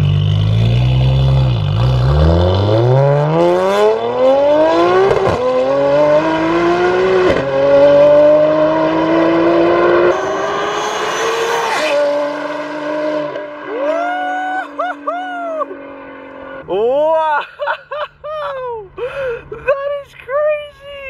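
A Nissan GTR races past at speed: a loud engine note climbs steadily as it accelerates and sweeps by, then fades with a few gear shifts and revs into the distance.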